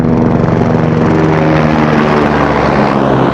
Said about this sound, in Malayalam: ഒരു ഹെലികോപ്റ്റർ പോകണം